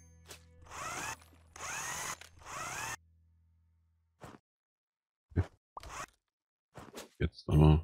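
A power screwdriver in the video game House Builder drives in screws in three whirring bursts that rise in pitch, followed by scattered clicks and clunks after a pause, all fairly quiet and close.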